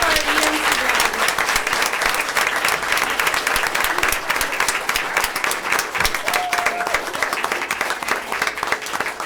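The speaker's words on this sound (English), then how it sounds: "So please join me in a hearty round of applause for all of our EMC graduates." Sustained, dense applause fills a board of education meeting as the audience claps for EMC graduates, steady and loud throughout with a faint crowd murmur underneath.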